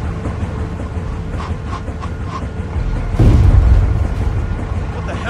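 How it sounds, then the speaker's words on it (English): A deep boom rumbles out in The Walking Dead: Season 2 video game, swelling partway through over a low, steady background with faint voices underneath. "Sound like explosions."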